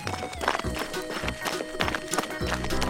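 Cartoon horse hooves clip-clop rapidly while a horse neighs, with bright music-like tones layered over the steady galloping rhythm.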